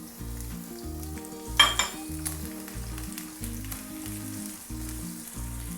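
Onions sauté in a pan as part of a tomato and boiled egg dish, a soft steady sizzle with a brief louder spatter near the start and light utensil clinks, no talking.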